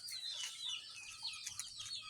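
Chickens cluck and chirp softly at feeding time, a faint, busy cluster of short calls with no talking over them.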